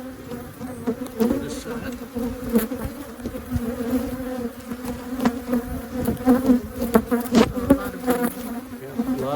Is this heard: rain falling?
no